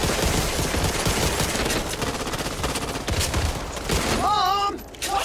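Continuous gunfire in the cooperative zombie first-person shooter Back 4 Blood, dense rapid shots and game noise filling the scene, with a brief warbling tone near the end.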